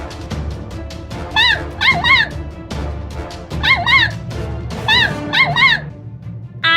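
A dog in an animated Halloween story about Japanese yokai lets out repeated high, wavering whimpers and yips in quick clusters, loud and close over a busy background of rustling and thumps.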